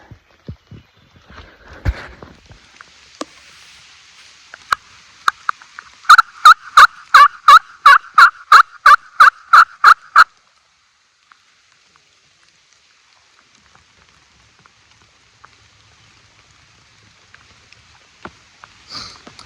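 A hunter's mouth or box turkey call imitates a gobble in a fast burst of about a dozen sharp, evenly spaced notes, loud and close, followed by quiet woodland in Pennsylvania turkey season.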